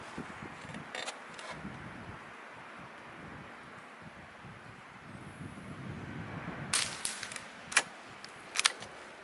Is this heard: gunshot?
yes